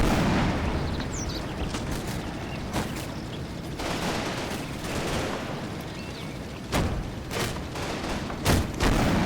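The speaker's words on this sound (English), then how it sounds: "So my Churchill's still firing on the tank, not knowing if it's destroyed or not." Tank gunfire from a Churchill tank in the WWII strategy game Combat Mission: Battle for Normandy, sharp booming shots at intervals over a continuous rumbling battle din, several loud cracks near the end.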